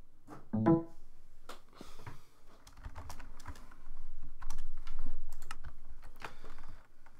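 Someone types on a computer keyboard during a Minecraft survival game, sharp uneven key clicks and clacks in irregular bursts, close and moderately quiet, with no speech.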